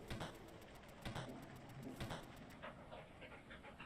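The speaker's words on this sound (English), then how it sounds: "Oh, we got 3 dogs." Several dogs panting in the pixel-art video game Animal Well, rapid rhythmic breathy pants repeating throughout at a steady, close, moderate level with soft game ambience beneath.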